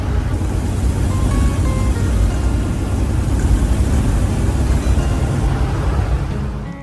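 A running 1963 Ford Falcon van engine, a loud steady low rumble that stays constant and close throughout before tapering off at the very end, with no voices.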